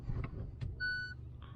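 Shifting a Kia Sportage into reverse with an aftermarket multimedia unit triggers a short, clear electronic beep tone after some faint clicks and handling noises, heard close and alone.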